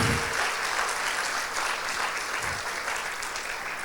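A church congregation applauds loudly and steadily in a dense, continuous wash of clapping that holds for several seconds.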